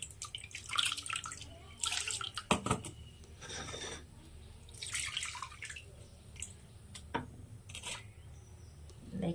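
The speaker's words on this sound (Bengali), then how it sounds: "এই যে মহাদেবকে স্নান করাবো।" Water is poured in a home temple to bathe a Mahadev idol during puja, close splashes and trickles arriving in uneven bursts with quiet drips between, the pours standing alone without voices.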